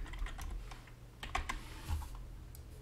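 Computer keyboard keys and mouse clicks while working in Unreal Engine: a quick, irregular run of light, close plastic taps, quiet and alone, with no talking.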